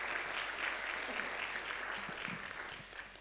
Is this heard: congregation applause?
yes